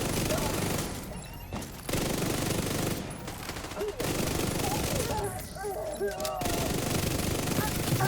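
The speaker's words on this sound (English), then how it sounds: "Oh, it's shots again." Rapid gunfire from a run-and-gun shooter video game crackles in dense, overlapping bursts, with short pauses between volleys and game voices at times.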